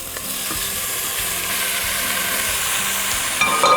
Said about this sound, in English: And it's still kind of sizzling away.